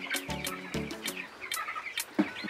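Chickens cluck and call in a crowded Kenyan poultry house holding about a thousand birds, a busy overlapping flock chatter close by with no talking.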